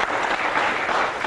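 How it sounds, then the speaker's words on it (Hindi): An audience at a self-made success interview show breaks into dense, steady applause, loud and close throughout the short stretch with no voices over it. "जोरदार तालियां।"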